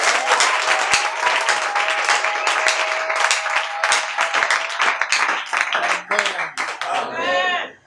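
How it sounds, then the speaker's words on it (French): A church congregation applauds, dense clapping and cheering that runs throughout, with a voice speaking and calling out over it before it fades at the end. "Acclamons très fort pour le Seigneur."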